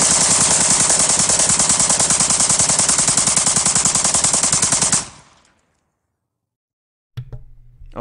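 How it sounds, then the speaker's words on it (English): Loud, rapid, continuous bump-fire gunfire from a semi-automatic rifle, a dense unbroken string of shots for about five seconds that stops abruptly, followed by silence and then a brief low rumble. "now this is going to be an example of bump fire"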